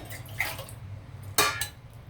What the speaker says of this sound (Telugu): ఇప్పుడు మనం కూరలకు వాటర్ వేద్దాము ముక్కలు ములిగే వరకు వేస్తే సరిపోతుందండి